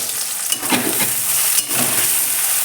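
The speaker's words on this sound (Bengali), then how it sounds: "পেঁয়াজগুলো লাল করে ভেজে নেব।" Sliced onions fry in a pan until browned, a loud steady sizzle close up with a couple of brief stirring scrapes.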